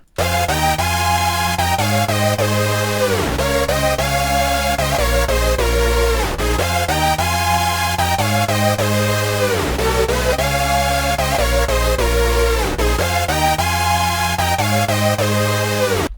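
A dense synthesizer loop with a bright lead, held chords and a deep bass line, playing continuously and loudly without any talking.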